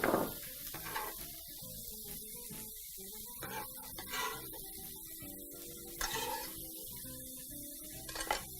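Goat rib pieces fry in a pan with a steady low sizzle, punctuated by occasional clinks and stirring scrapes of utensils against the pan throughout.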